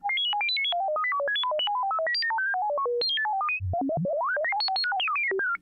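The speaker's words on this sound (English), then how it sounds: "So what do you think of my new ringtone?" A synthesized R2-D2-style phone ringtone, a rapid string of electronic beeps jumping up and down in pitch with a brief low warble in the middle, clean, loud and alone.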